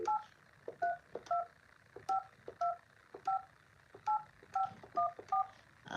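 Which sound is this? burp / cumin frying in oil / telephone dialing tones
telephone dialing tones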